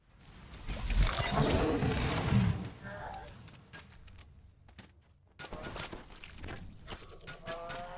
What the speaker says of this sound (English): A thunderous roar can be heard down the hallway below.